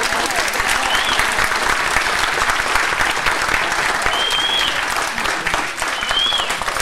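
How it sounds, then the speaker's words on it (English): Sustained audience applause fills the room during a Q&A session aboard a cruise event, dense and steady at close range for several seconds, with a few faint voices and whistles breaking through the clapping. "Give everyone a round of applause."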